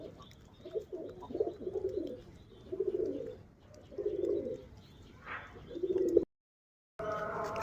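Local Rajshahi deshi pigeons coo in repeated soft, throaty bursts, several rolling calls in a row, fairly close and quiet, with a brief silent break near the end.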